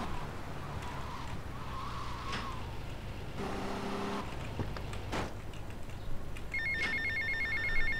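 Telephone ringing in the video game GTA: Vice City, a repeated electronic ring rising near the end over steady car engine and street noise from the game.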